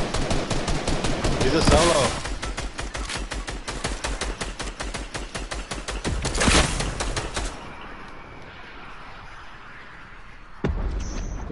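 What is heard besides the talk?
gunfire in a video game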